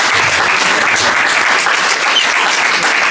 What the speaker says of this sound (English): Big round of applause for Bruce.